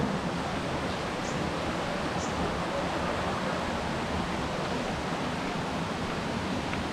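A small stream flows past a homestay in Mae Lai Village, Chiang Mai, giving a soft, steady rushing hiss of water that stays even and unbroken throughout with no voices.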